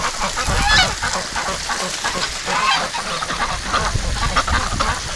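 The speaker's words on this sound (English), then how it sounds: "Goose is not liking it." Geese honk repeatedly in a noisy winter flock of ducks and geese being sprayed with water at bath time, the loud calls overlapping in a steady chorus.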